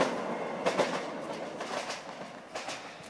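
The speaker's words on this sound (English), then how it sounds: "you can hear the train going past in the background." A train passes near an allotment with a steady rumble and rhythmic clickety-clack of wheels, moderately loud and continuous, with no one speaking.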